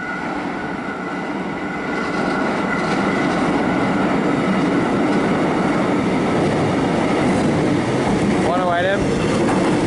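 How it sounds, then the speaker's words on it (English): A not-in-service train passes close by, its continuous loud rolling rumble and clatter of wheels on rails filling the clip, with a brief wavering squeal near the end. "Looks like we've got another not-in-service train passing."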